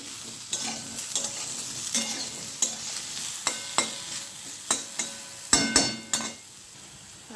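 Potatoes lightly frying in a pan give off a steady hiss, broken by repeated scraping clinks of a spatula stirring them, and the sizzle fades out near the end.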